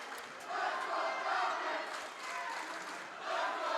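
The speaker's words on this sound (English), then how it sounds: "West Burlington's crowd's getting into it, trying to inspire the boys on the floor" A home crowd at a varsity boys district basketball game cheers and roars in sustained waves, swelling and easing over the seconds, with no clear speech on top.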